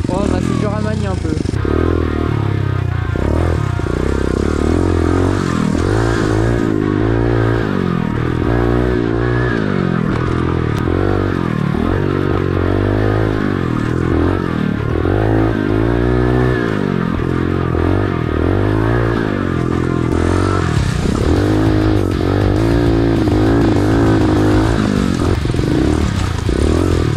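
A 110cc pit bike engine on a dirt mini-moto track revs loudly and continuously, its throttle rising and falling, with people talking over the steady roar.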